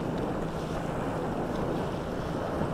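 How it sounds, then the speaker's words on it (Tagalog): Strong wind roars steadily across the microphone near Macabebe, a constant broad rush with no pauses, loud and close. "Lakas ng hangin."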